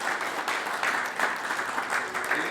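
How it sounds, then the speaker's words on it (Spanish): A church congregation claps steadily for a seminary student during a Spanish-language worship service, a dense, even applause that fills the room. "Andrés, démosle un aplauso"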